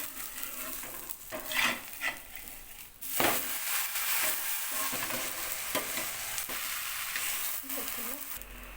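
Rava dosa frying on a hot pan, a steady sizzle broken by scraping and clatter of a spatula, with a brief faint voice in the background.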